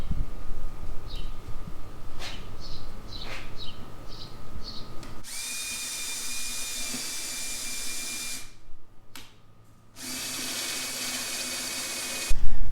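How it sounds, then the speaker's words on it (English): A power drill bores through a wooden blanket ladder rail with a bit, roaring in two loud, sustained bursts with a steady whine after a quieter stretch of faint clicks and taps. "I'm going to go through the rail with a drill, the same bit"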